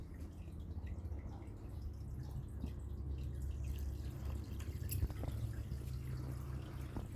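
Water from a betta fish tank filter, its flow just opened up, makes a steady, quiet trickling wash with faint drips, constant and even throughout with no talking.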